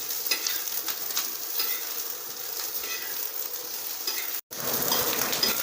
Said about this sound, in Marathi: हे बघा कांदा असा चांगला असा भाजून घेतलेला आहे तळून लाल